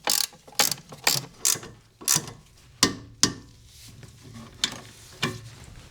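Ratchet and torque wrench tightening a new sway bar end link on a car, with about a dozen loud, close clicking pawl strokes in an uneven rhythm and no voices.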